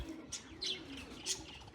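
Soft pigeon coos repeat a few times over a low background hum, with faint chirps mixed in; no one speaks.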